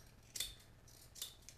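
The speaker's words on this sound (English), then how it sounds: "You can actually take a pair of scissors and trim along the edge there." Scissors trim the edge of a fiberglass circuit board, giving two sharp, faint snips about a second apart, with a softer click after, in a quiet room.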